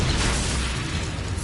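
The fiery burst of an Incendio spell in Hogwarts Legacy on PS5, a loud whooshing, rumbling blast with crackling that fills the short moment.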